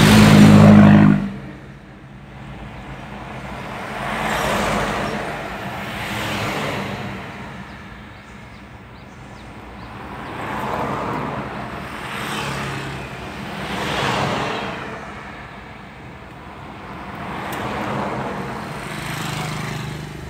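A queue of vehicles stopped for repairs on the Barito Bridge, with engines idling and crawling past in slow, swelling waves of motor and tyre noise, steady and fairly close throughout.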